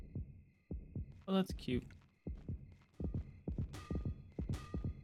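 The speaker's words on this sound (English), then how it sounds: "Why is my heart beating?" A low, rhythmic heartbeat effect thuds repeatedly in the horror game Yomawari: Night Alone, steady double pulses continuing while a person briefly talks over it.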